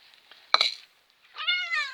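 A cat meows close by: a short sharp sound first, then after a pause a clear, drawn-out meow, with no talking.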